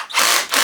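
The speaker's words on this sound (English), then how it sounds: "I'm going to chuck this all the way back" A power drill spins with a chuck holding a homemade screw extractor made from a tension pin, run counterclockwise for a guitar screw; a short, loud, close whir that dips briefly mid-run and then picks back up.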